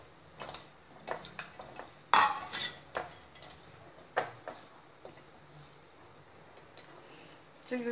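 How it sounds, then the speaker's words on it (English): A spoon stirs paneer masala in a pan, scraping and clinking against the metal in irregular taps and knocks, some sharper than others, with short quiet gaps. "Mix it well."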